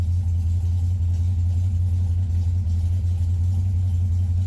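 A car engine with a self-tuning Holley/Edelbrock-style carburetor idles at a steady, close low rumble throughout, with no distinct start-up burst and no talk.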